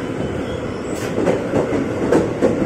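A 12-car JR 205 series commuter train rolls past on a station platform at rush hour, its steady rumble punctuated by rhythmic clickety-clack of wheels over rail joints, close and fairly loud.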